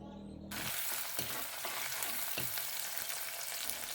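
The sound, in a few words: crushed shallots sautéing in oil with mustard seeds and fenugreek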